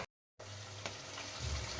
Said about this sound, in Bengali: ট্যাংরা মাছ হবে এখন তাই এখন ভাজছে